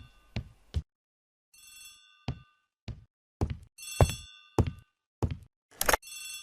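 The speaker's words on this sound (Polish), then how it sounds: "Poirot, the telephone." A telephone rings in the Agatha Christie: The A.B.C. Murders video game, with repeated short metallic bell bursts separated by dull thunks and brief pauses, clear and alone.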